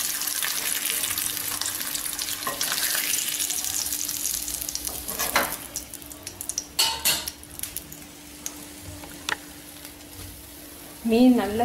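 Fish in masala fries over a low flame with a constant soft sizzle, broken midway by utensil clinks and scraping stirs, with a brief voice at the very end.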